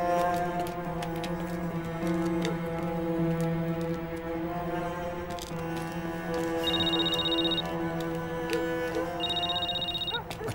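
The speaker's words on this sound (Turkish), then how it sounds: "Niye açmıyorsun şu telefonu?" A telephone rings indoors in a Turkish drama scene, repeated electronic ring bursts sounding twice over a steady background music bed, clear and moderately loud, with no speech.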